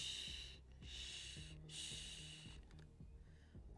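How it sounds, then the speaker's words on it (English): Panting in a visual novel, heard as three or four loud rasping breaths in a steady rhythm, close and breathy, over a soft low musical background. "We're both panting."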